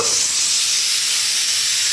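Onion goes into a hot pan and sets off a bright, steady sizzle. The frying holds close and even for a couple of seconds, with a faint stirring texture and no voices.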